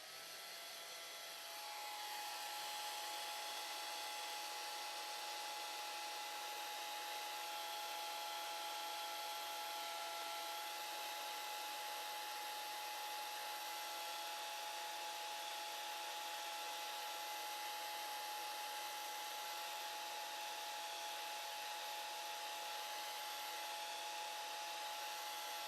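Hair dryer blowing on a watercolor painting of a bobcat kitten, a steady, fairly loud whooshing whir that switches on at the start and runs unbroken to the end with no talking.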